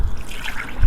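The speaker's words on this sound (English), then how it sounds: "So right, I'm going to pour this in" Muddy clay-laden water pours into a pillowcase to strain out clay, a brief close trickling and splashing of liquid with a low thump at the end.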